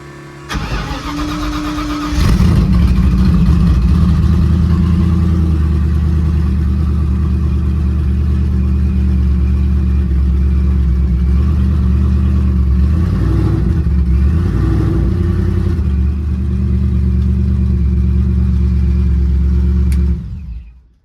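Procharged Ford Coyote V8 car idling and reversing out of a driveway, a loud steady rumble close by after a brief start-up, with small revs and no speech.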